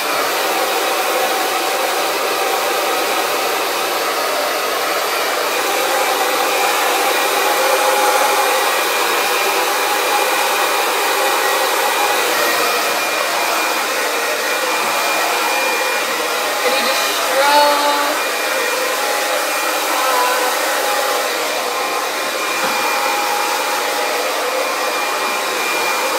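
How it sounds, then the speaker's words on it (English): A blow dryer on the cool setting, drying hair, runs continuously with a steady, loud airy whoosh and slight fluctuations as it moves, no voices over it. "I'm going to use my blow dryer on cool air"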